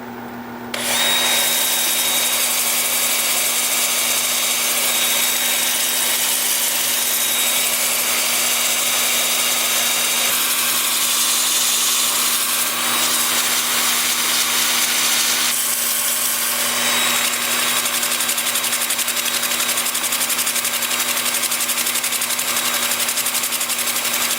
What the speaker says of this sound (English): Lathe is spinning in reverse at about 340.